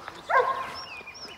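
A dog at a French SPA animal shelter gives a short, close bark with a yelping edge, followed by faint background noise and thin whistling tones.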